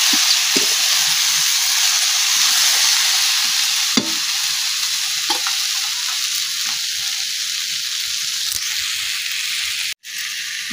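Carrots, aubergine and peas fry in a pan with ground spices, giving a continuous loud hiss and sizzle broken by several scraping stirs of a spatula, with a brief clatter near the end.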